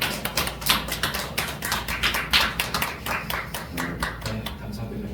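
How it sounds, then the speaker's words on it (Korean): A church congregation applauds during a Sunday service, a dense, fast patter of many hands clapping at once, sustained and fairly loud throughout with voices faintly mixed in. "박수로 다시 한번"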